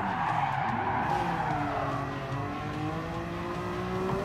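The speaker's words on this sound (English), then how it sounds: "I love how you just hear grinding gears" A Nissan GT-R in the Gran Turismo Sport racing game grinds its gears and whines through a shift, with skidding tyre noise, steady and moderately loud with no talk.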